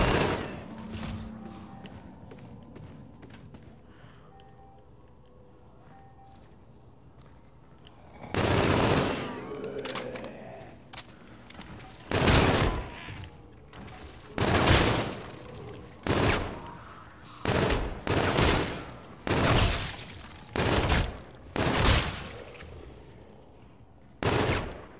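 Machine-gun fire in the Call of Duty video game: after a quiet stretch, loud full-band bursts repeat in short volleys of roughly one second each, about ten in a row, with brief gaps between them.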